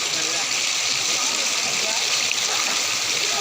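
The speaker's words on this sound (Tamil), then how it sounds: "அதுதான் அந்த குரங்கணி ஃபால்ஸுங்கிறது" Water from the Kurangani falls stream in the green hills near Theni rushes steadily with a broad, constant hiss close by and no pauses.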